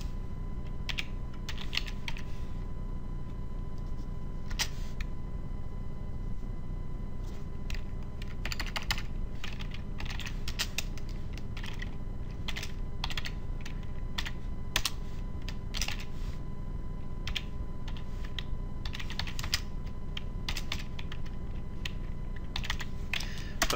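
Steady computer keyboard typing runs for the whole stretch, with clustered bursts of keystrokes and short pauses between them, fairly close, alone with no voices.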